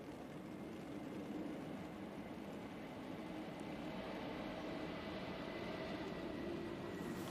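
An airplane touching down at Manchester Airport in Storm Ashley: a steady, broad engine and wind roar holds loud and unbroken throughout, heard from inside the cabin.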